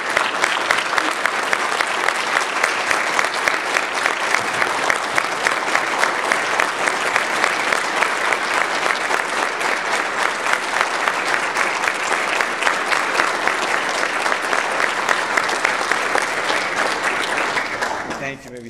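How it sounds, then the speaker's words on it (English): Veterans at a school veterans program are applauded by the audience with a steady, dense round of clapping lasting nearly the whole stretch before it tapers off at the end. "let's give them a round of applause"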